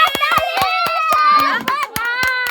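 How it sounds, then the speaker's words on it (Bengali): Hands clap in a quick, regular rhythm, about a dozen sharp, close claps across two seconds, while children's voices sing or chatter loudly over them. "হাততালি।"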